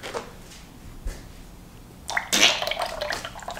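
Used engine oil from a Subaru oil change is poured out, a brief liquid splash and trickle that starts partway through after quiet, faint handling noise.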